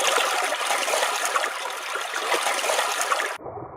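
Fast-flowing water rushing through a shallow spring stream channel fed by lakes, a steady loud broadband wash that continues unbroken before abruptly cutting to a quieter, duller trickle near the end.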